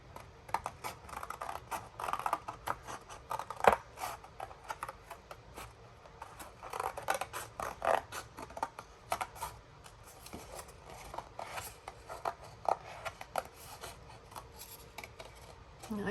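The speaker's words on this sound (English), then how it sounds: "I'm going to go ahead and trim this piece off" Paper being trimmed for a handmade flip album, a long run of soft rasping cuts and rubbing scrapes with irregular small clicks, fairly quiet and close, no voices.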